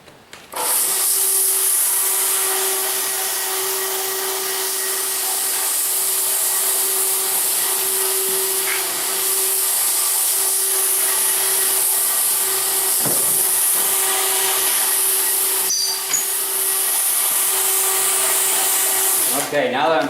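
Floor scrubber pad working an older concrete shop floor, a steady loud machine whir with a constant hum and brushing hiss that runs unbroken for the whole stretch, occasional small knocks near the end.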